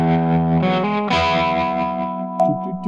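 Guitar run through a Mooer Trelicopter tremolo pedal, a few sustained chords and notes with smooth, gently pulsing volume movement, ringing out closely with a slight reverb tail.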